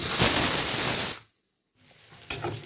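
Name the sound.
pressure cooker whistle releasing steam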